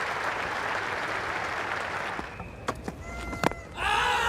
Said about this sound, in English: he gets a great round of applause